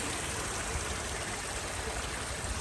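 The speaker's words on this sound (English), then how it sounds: "We got some live water on course here." Live water flowing across a hard enduro course, a steady broadband rush like a small stream, close and continuous with no talk over it.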